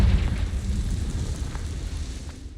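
A Confringo fire spell explodes in Hogwarts Legacy, a loud, dense burst of rumbling fire and blast that rolls on steadily for a couple of seconds with crackling texture on top.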